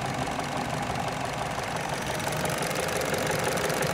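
A Chevy Cruze engine idles with a lean fault from a cracked air intake hose, a steady, even mechanical drone with a faint knocking texture running unchanged and close throughout, no talking.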